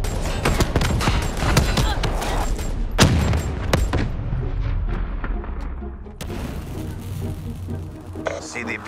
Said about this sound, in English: Grenade! Move! Move!